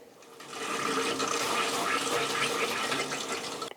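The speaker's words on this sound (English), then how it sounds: "We'll turn on our cold water inlet down here." Water rushes into household plumbing as the cold-water inlet valve of a tankless water heater is opened, a steady close hiss and gush that swells within the first half-second and then holds evenly.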